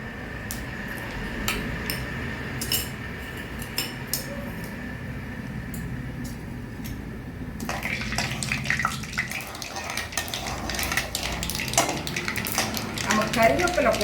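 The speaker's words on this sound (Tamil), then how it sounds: "அதில் கடுகு தாளிச்சிடலாம்." Mustard seeds hit 50 grams of hot sesame oil for a tomato thokku tempering, a soft background sizzle that bursts into louder, dense crackling and popping partway through, with someone talking near the start.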